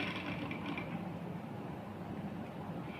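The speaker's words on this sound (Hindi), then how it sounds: "देखिए यहाँ पे किनारे किनारे में सिलाई लगा रही हूँ" A sewing machine stitches along the edge of a salwar, giving a continuous low mechanical whirr with faint rapid ticking and creaks, close by and steady throughout, no voices.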